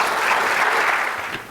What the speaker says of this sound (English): How about another round of applause for Leah?